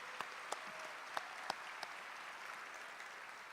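A large audience applauds at a mayor's State of the Community address, a steady, fairly soft wash of clapping with a few sharper individual claps standing out near the start.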